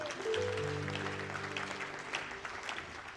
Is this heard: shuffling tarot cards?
no